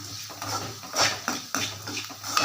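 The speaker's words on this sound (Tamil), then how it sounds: "இதில் கொஞ்சமாக கொஞ்சம் நான் மஞ்சத்தூள் போட்டு கலந்து விட்டுறேன்" A spoon stirs turmeric into onions frying in oil for upma, making repeated scraping strokes and metallic clinks against the pan over a soft sizzle, close by.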